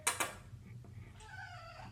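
A house cat gives a short meow after two sharp knocks at the start, the call faint and drawn out against quiet indoor background noise.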